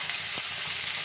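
Cut potatoes frying in a hot pan, a steady close sizzle with a brief stir-like clatter in the middle.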